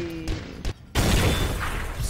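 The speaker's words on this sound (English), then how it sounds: "This has a very cool explosion to it." A loud explosion in the Garry's Mod video game bursts in about a second in and rumbles on with a sustained, crackling roar, after brief quieter thuds.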